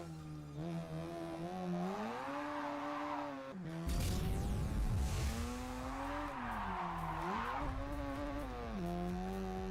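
A Mazda RX-8 racing in a driving video game, its engine whining and revving up and down through gear changes, with a sudden louder surge of engine and tyre noise partway through, continuous and close.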